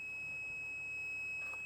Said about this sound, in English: The sliding door on this van is not closing all the way. So I believe that's what's triggering this beeping sound.